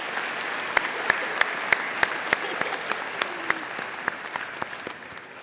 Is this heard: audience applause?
yes